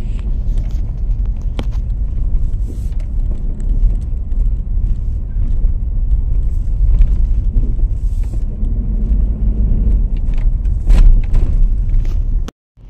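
Mitsubishi Montero Sport with an MPI GDI diesel, underboost fault and check engine light, driving on a road test: a steady low engine and road rumble from inside the cabin, continuous for about twelve seconds, with a few small knocks before it cuts off.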